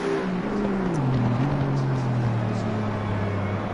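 Mercedes GT4 race car from Assetto Corsa Competizione, its engine holding a loud, steady drone that sags slightly in pitch as it runs on without a break, close and constant.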